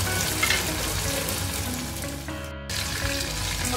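Tomato cooking in a pan for bean curd sambal with crispy anchovies and shrimp paste, giving a steady broadband sizzle with a brief interruption near the end, close and moderately loud, no talking.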